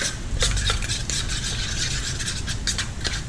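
A spoon stirs a garlic and salt mixture in a bowl, with continuous close scraping and soft clinks throughout and no voices.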